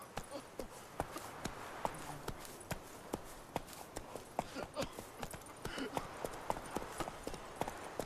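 Roach, the horse in The Witcher 3, galloping: rapid, regular clip-clop hoofbeats continue throughout at a brisk pace, moderately close, with a voice speaking briefly over them.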